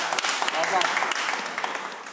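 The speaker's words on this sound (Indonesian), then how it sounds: "Berikan tepuk tangan untuk anak-anak muda sinias muda kita." Audience applause for a group of young musicians at a live talk show in Tuban, Indonesia, steady dense clapping filling the whole stretch without pause.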